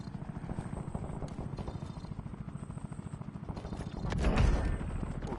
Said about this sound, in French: Un drone ennemi se trouve au-dessus